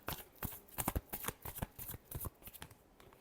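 Tarot cards riffle and slap together in a quick, close shuffle, a run of crisp papery flutters and taps lasting a few seconds, with no voices.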